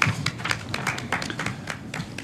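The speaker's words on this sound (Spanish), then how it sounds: "Pues aplausos" Scattered applause in a session room at the Congreso de los Diputados, a modest group clapping in a quick irregular patter of close, crisp claps, steady at a moderate level with no talk.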